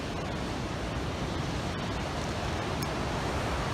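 Ocean surf at Rialto Beach, a continuous broad roar of breaking waves with a wind-like rush, steady and loud with no distinct individual breakers and no talking.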